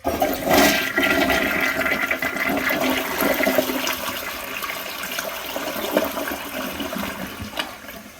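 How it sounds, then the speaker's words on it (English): New Mansfield Summit toilet flushing with the handle held down to empty the whole tank, a loud, close, sustained rush and gurgle of water that slowly tapers off over about eight seconds, with no talk. "For this next flush, let's hold the handle down and see how powerful this thing is when you use the entire tank."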